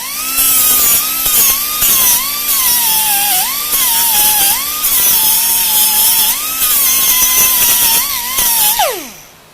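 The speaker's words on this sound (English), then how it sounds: "I'm just hitting it with the flapper for right now, just kind of breaking that break edge there" A flap disc on an angle grinder works a metal break edge, a loud high whine wavering as pressure changes, with rhythmic pulses of rasping contact, then winds down sharply at the end, no talking.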